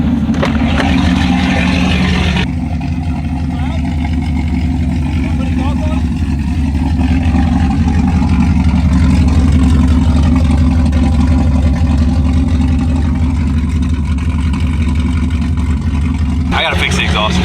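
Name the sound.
cammed car engine running with loud droning exhaust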